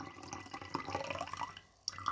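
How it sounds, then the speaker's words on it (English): Tea dripping and trickling from a freshly topped-up cup, a close run of small liquid splashes and drips that pauses briefly, then resumes with a sharper drop; no talking. "it's dripping on my fingers"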